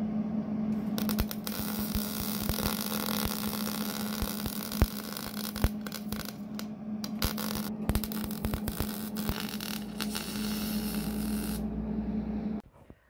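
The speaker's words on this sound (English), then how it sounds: "I had a friend do this, always fitting it for me, so I'm just gonna weld them." Steady electric arc welding on steel motorcycle lowering brackets for a Yamaha XV250, a continuous buzzing crackle with a strong hum held close and loud for about twelve seconds before cutting off.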